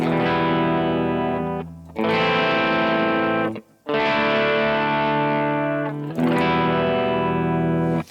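An electric guitar with heavy distortion plays a solo as three long, sustained, droning chords, each held about two seconds and cut off by a brief gap, loud and alone.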